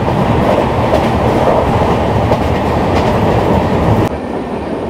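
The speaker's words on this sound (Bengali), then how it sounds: "ট্রেন বেশ ভালোই চলছে" Shalimar Puri Dhauli Express (12821) running at speed, a steady loud rumble of wheels and carriage with faint clickety-clack throughout, dropping slightly in level near the end.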